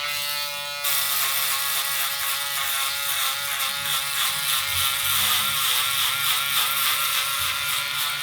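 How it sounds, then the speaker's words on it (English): An electric foil shaver switches on with a loud buzzing whir and runs steadily as it shaves stubble in a barbershop fade, its tone wavering slightly against the skin, with no talking. "Now I'm just going to get my foil shaver."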